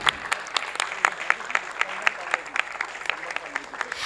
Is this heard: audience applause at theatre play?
yes